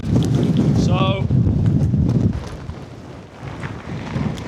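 Gale force wind buffets a wild camp in the Lake District, roaring loud and close across the microphone at first and then easing to gusty bursts. Someone talks over it.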